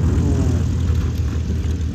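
Inside the cockpit of a K-55 aerobatic propeller airplane, the engine and airflow roar steadily, loud and continuous, with a broad low-heavy drone throughout.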